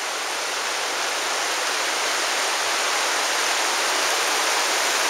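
River water rushing steadily through the Zion Narrows slot canyon at low flow, a dense, even broadband roar close by with no letup and no voices.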